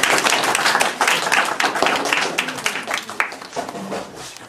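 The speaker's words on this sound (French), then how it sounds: "Allez, on applaudit bien fort." An audience claps loudly and steadily throughout, dense applause with scattered sharper hand claps and no voices over it.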